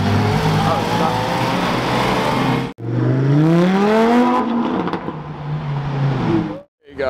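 A red Ferrari 488 passes close by with a loud engine note that rises and falls as it revs, then fades and briefly drops out. Voices can be heard underneath.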